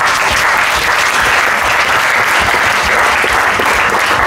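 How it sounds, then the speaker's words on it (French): Loud, sustained applause from a large audience, dense clapping continuing steadily throughout without a break. "Je vais encore demander d'applaudir nos intervenants très fort"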